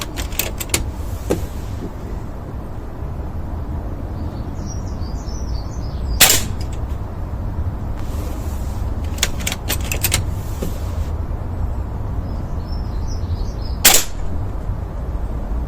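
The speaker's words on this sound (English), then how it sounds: "No, just shooting all over the place, not even going where I'm aiming at" A Beeman air rifle fires pellets outdoors, producing a few sharp isolated cracks spaced seconds apart over a steady rumbling background with faint distant bird chirps.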